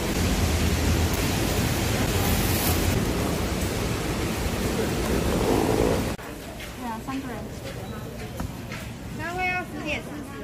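Heavy rain roars steadily for several seconds, then cuts out abruptly, leaving quieter background where a voice speaks briefly.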